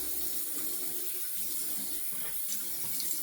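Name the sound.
rinsing a Zazor Shavette razor under running tap water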